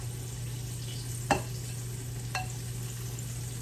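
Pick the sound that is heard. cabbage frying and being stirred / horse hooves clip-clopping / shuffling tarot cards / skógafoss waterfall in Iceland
cabbage frying and being stirred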